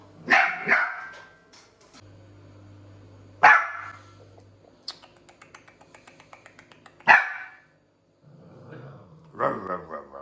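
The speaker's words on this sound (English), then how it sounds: "That's my dog." A dog barks in short, sharp bursts, three loud barks spaced a few seconds apart, between stretches of quieter rhythmic clicking and a low hum. A voice is briefly heard near the end.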